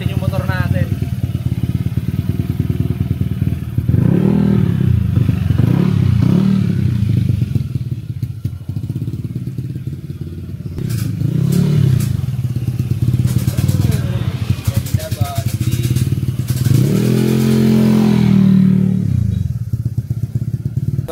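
A Honda Click scooter with a Street GP-style build runs during a test, its engine rising and falling in a few revving swells over a steady idle, close and loud, while someone talks over it.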